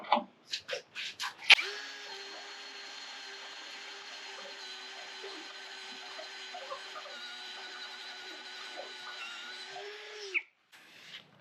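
Power drill boring through a lubricated steel truck frame, a sustained close whine lasting about nine seconds that holds steady and then cuts off abruptly, preceded by a few short clanks.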